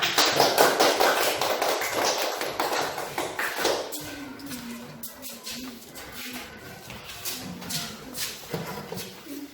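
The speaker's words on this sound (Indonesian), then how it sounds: "Ya, tepuk tangan." Schoolchildren clapping their hands together in a classroom, a dense burst of rapid, overlapping claps that is loud at first and then thins into scattered claps and murmuring voices.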